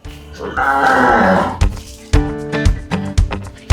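A Kebumen cow in a farm barn gives a long, loud low moo, followed by several dull thumps and clatters close by, with a few short murmurs of nearby talk.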